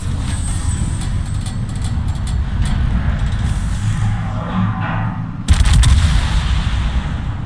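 Heavy naval guns from 16-inch gun battleships booming in a naval warfare video game, a dense rumbling barrage with a sharper, louder blast near the end, no voices.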